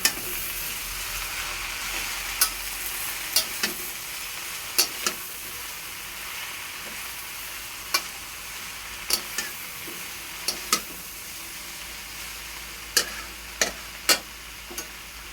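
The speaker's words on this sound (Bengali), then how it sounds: "পরিমাণ মতো লবণ দিয়ে দেব, ভালো করে নেড়ে নেব।" Leafy greens with turmeric and salt are stirred in a frying pan over a soft, continuous sizzle, with sharp clicks of a utensil knocking the pan at irregular intervals, close and alone.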